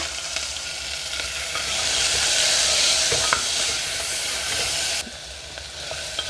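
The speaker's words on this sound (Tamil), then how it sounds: "வெங்காயம் பச்சை மிளகா மிளகாய் இதையும் சேர்த்துட்றேன்" Onions and green chillies fry loudly in hot oil, a close, dense sizzling hiss that swells after a couple of seconds and drops in level near the end, with no talking.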